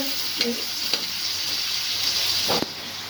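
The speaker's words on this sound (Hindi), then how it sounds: "ये सब्जियां हमारी फ्राई हो चुकी हैं और चिकन भी हमारा फ्राई भी हो गया" Vegetables and chicken frying in a pan for spicy chicken shashlik hiss in a steady, close sizzle, punctuated by a few sharp stirring clicks and a louder scrape just before the end, no speech.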